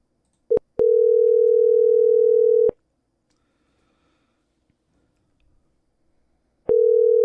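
A steady electronic phone tone sounds twice, a short blip then a long beep of about two seconds, followed by silence and another beep starting near the end, marking a forwarded call reaching voicemail.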